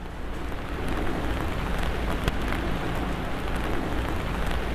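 Heavy monsoon rain pours down in flooded Rajasthan, a dense, constant roar of drops hitting surfaces, loud and unbroken throughout with no voices.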